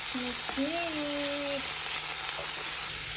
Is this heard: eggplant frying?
yes